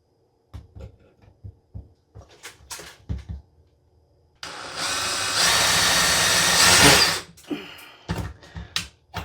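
A power drill with a socket bit driving a self-drilling screw during recessed light fixture work, heard as a loud whirring burst of about three seconds between scattered handling clicks and knocks.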